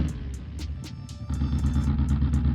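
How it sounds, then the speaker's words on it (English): An all-wheel-drive budget Pikes Peak challenge car with pop-up headlights revs hard, its engine note loud and close with a steady harmonic drone, a brief dip midway and crackling bursts on top. "Yeah, and that noise from the engine."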